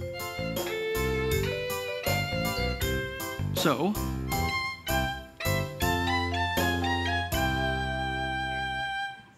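Wii Music video game playing violin-like melodic notes in a steady sequence of sustained and plucked tones with harmonic richness, loud and continuous, with a brief spoken word near the start.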